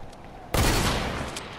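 A single sharp sniper rifle shot in a first-person shooter video game, a sudden loud crack that rings out and decays over about a second.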